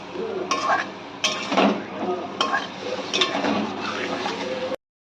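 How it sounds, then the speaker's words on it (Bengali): Spice paste with slit green chilies and Kashmiri chili powder is stir-fried in a pan for a Bengali fish curry with green eggplant, with close, repeated spatula scrapes and stirring bursts over a low sizzle. "মশলাটা কষিয়ে নিয়েছি"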